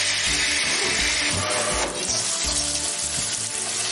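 Water runs and splashes over salted, chopped zucchini in a colander, a steady broadband rush with soft clunks and rattles of pieces shifting, close and continuous with no talking.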